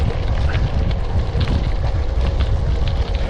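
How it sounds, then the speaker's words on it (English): A headwind roars steadily across the microphone while riding a Ride1UP CF Racer1 carbon-fiber gravel e-bike. The loud, constant rushing buffet continues throughout with no voice. "I've got a bit of a headwind going on."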